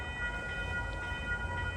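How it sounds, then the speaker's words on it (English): Metro North train approaching: a steady low rumble with a faint sustained tone, moderately distant and even, with no talk. "Well, 301 approaching is train 662 from southeast to Grand Central."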